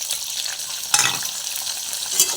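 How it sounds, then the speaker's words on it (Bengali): Onion and tomato fry with ginger and green chili in a pan, a steady close sizzle with crackling spatter, and a brief louder stir or clatter about a third of the way through. "তো এটা ভাজা হোক, বুঝলেন?"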